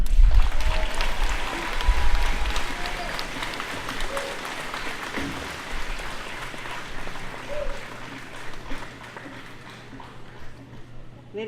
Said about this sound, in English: please another round of applause for our remarks from our president